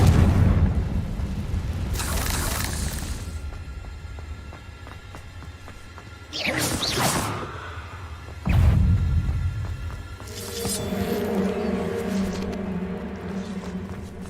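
Confringo fire spells explode in the Hogwarts Legacy video game, three separate booming blasts with rushing tails over a low rumbling backdrop, loud and close.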